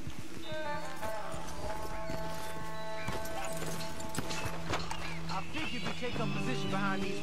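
Horses' hooves clip-clopping in Red Dead Redemption 2, a steady rhythmic beat of footfalls under a dense bed of game music and ambience, continuous and fairly loud throughout.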